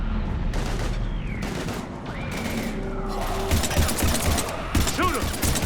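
Rapid gunfire in the Mass Effect 3 Legendary Edition video game crackles in dense, overlapping bursts during a close-quarters fight, with shouted voices and impacts mixed into the steady din.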